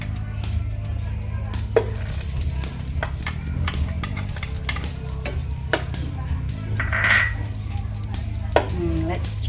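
Butter melting in a hot pan over medium heat, a steady soft sizzle and frying hiss with occasional light clinks of a utensil against the pan.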